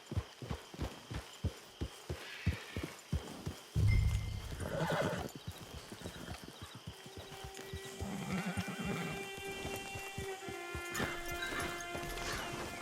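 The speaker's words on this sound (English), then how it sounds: "Get your horse." Horse in the Red Dead Redemption 2 video game: steady clip-clop hoofbeats trot along in a regular rhythm, then a loud whinny and snorting break in midway before the hooves continue with ambient game sounds.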